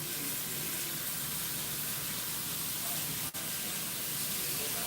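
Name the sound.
bacon sizzling in a hot pan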